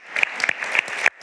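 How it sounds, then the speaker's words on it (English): Brief burst of audience applause at a European cooperation conference, sparse claps with sharp peaks thinning out and stopping abruptly near the end. "I think that deserves a round of applause."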